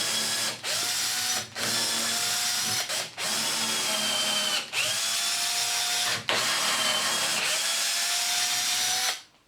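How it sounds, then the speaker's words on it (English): A power drill bores holes into wood pieces for a milk crate step-up, running in about five rising, whining bursts separated by short pauses, close and loud with no talking. "I'm just going to drill 3 equally spaced holes in both pieces"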